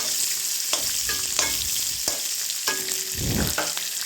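Onions and dried red chillies sautéing in a pan, a steady close sizzle broken by several scraping stirs of a spoon.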